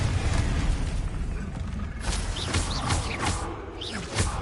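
The Confringo blasting spell goes off in Hogwarts Legacy: a run of bright, crackling bursts and booming pops across the second half, over a dense, constant wash of game noise.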